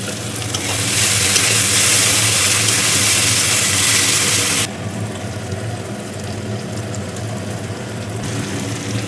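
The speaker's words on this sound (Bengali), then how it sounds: "পেঁয়াজটা ভাজা ভাজা হয়ে গেছে" Onions and tomato frying in a pan with chilli powder and turmeric, a loud, bright, continuous sizzle that drops abruptly in intensity about halfway through and carries on more softly, with no talking.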